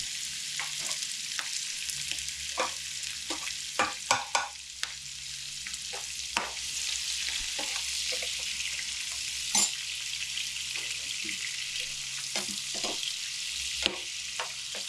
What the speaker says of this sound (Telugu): ఉల్లిపాయలు, పచ్చిమిరపకాయలు వేసేస్తాం.